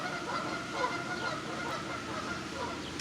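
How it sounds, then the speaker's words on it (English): Geese honk steadily in the distance under a constant outdoor wash, faint and continuous with no talking. "The geese won't shut up now."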